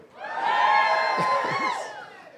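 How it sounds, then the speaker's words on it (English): Crowd cheering at an inauguration speech in a packed room: a single swelling roar of voices and whoops, close and steady for about two seconds before fading. "This is a spirited crowd."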